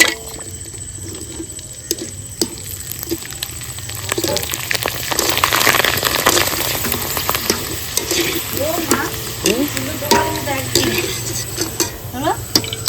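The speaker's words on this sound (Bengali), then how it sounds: "তেল গরম হয়ে গেছে পাপড় দিয়ে দেবো" Papad frying in hot oil in a kadai gives a steady, crackling sizzle that swells in the middle and carries on to the end, with a few clinks of utensils close by.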